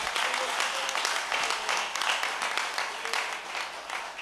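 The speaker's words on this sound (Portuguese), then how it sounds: "Você pode dar uma salva de palmas essa noite?" A church congregation at an evening service in a rural village breaks into steady, fairly loud applause that fills the whole moment, with voices mixed into the clapping.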